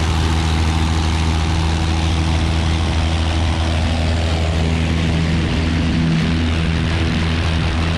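Piper Archer light aircraft with a new engine running at full takeoff power, a loud, steady propeller drone with strong low harmonics that holds throughout without a break.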